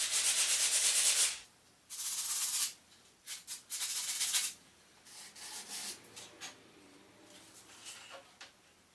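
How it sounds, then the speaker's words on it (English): A scrap countertop end is sanded to a bevel in several bursts of dry, hissing abrasion, with a long opening stroke, shorter strokes after it and brief pauses between them. "It's going to take my scrap end and sand on a bevel on this end so that I could dry fit a few times"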